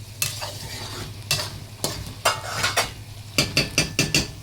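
A spoon scrapes and stirs rice with vermicelli in a pot, several separate scraping strokes over a soft steady sizzle, close and alone without talk, with a quick cluster of strokes near the end.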